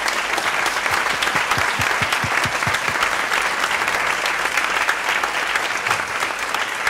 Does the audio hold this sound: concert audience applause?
yes